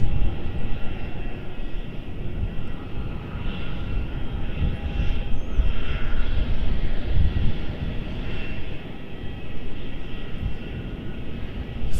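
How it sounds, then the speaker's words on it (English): A Jetstar Airbus A320 takes off using the full runway length at Melbourne Airport, its jet engines giving a steady, loud, broadband roar that holds for the whole stretch with no talk. "Got a Jetstar. 320, going full length."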